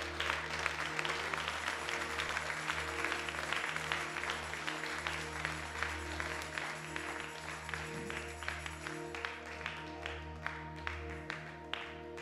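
Church congregation applauding during a French-language sermon, a sustained wash of clapping with a steady low hum underneath, moderately distant and continuous across the whole stretch.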